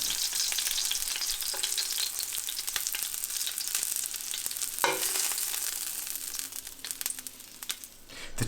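Lamb chops fry in a hot pan with a steady, close sizzle and crackle. Brief stirring or shifting sounds break in partway through, and no one speaks.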